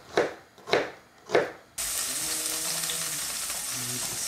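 Onion frying in a pan: three short soft bursts give way to a sudden, steady, close sizzle that holds evenly to the end.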